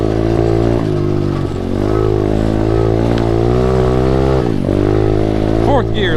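An SSR125 pit bike is ridden hard. Its close, buzzy single-cylinder engine revs up through the gears with sharp pitch dips at each shift, and a rider talks intermittently over it.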